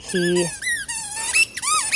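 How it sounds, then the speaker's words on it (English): A dog chewing a squeaky toy ball indoors, producing a rapid series of loud, high-pitched squeaks in separate bursts, some sharp and some drawn out. "I don't know why I bought these squeaky balls."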